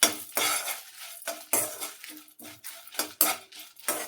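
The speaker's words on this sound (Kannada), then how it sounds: "ಲೋ ಫ್ಲೇಮಲ್ಲೇ ನಿಧಾನವಾಗಿ ಹುರ್ಕೊಳ್ಬೇಕು." Urad dal roasting slowly over a low flame in a pan, stirred with a metal spoon: repeated scraping and clinking strokes against the pan, close and fairly loud, with no voices.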